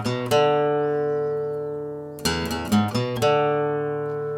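Electric guitar playing an intro riff: sustained, distorted notes ringing with a few quick picked attacks in the middle, close and loud with no talking.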